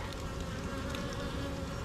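Honeybees buzzing at a hive just closed up after inspection, a few stragglers lingering outside and one bee fanning, giving a steady, close insect drone with small flickers of individual wingbeats throughout.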